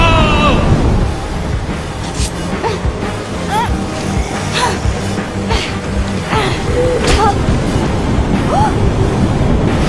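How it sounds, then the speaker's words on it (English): Waterfall-like rushing water in the Minecraft Story Mode video game, a loud steady broadband roar throughout, with a person speaking over it. "Almost sounds like a waterfall."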